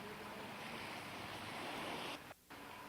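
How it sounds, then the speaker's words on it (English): Small waves lapping on a Costa Rica shore, a steady wash of surf with light wind noise, close and fairly quiet, briefly cut near the end. "As you can hear the little waves lapping and so forth"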